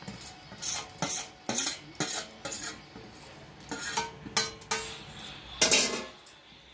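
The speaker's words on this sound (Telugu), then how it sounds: "ఇప్పుడు లాస్ట్ అండ్ ఫైనల్ మనం బాగా ఫ్రై చేసుకున్న డ్రై ఫ్రూట్స్, ఖజూర్, బాదం, పిస్తా అన్నిటినీ వేసుకోవాలి కంప్లీట్గా." Fried dates, almonds, pistachios and other dry fruits tipped into a pot of sheer khurma, heard as a series of close metallic spoon clinks and scrapes against the pan in an irregular rhythm.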